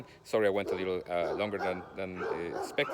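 Dogs bark and yip close by in a home, their sharp, whiny calls mixed in with a person talking over them.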